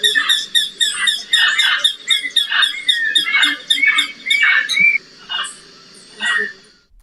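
Forest chorus of birds, insects and primates, with a run of loud, repeated squawking calls that slow and thin out toward the end, over a low background hum.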